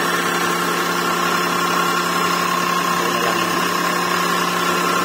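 Chery QQ 308 with a manual gearbox idling after a belt repair, a steady, even engine hum with a constant whine and no squeal or change over a few seconds, heard close up without speech.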